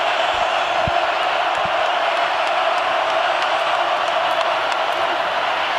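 A stadium crowd at Rocky Top, Tennessee, during a Vanderbilt–Tennessee college football game sends up a steady, dense roar that stays loud and unbroken the whole time, without distinct bursts.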